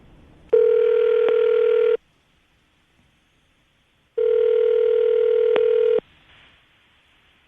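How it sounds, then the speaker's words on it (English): A telephone call is placed, and two long, steady ringback tones sound clearly, each lasting over a second. They are separated by a gap of near silence. "I'm going to dial the phone number right now"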